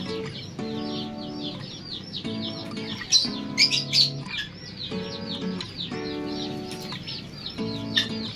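Pet lovebirds chirp and tweet in a steady, busy stream of high calls, with a few louder bursts midway, fairly close with no talking.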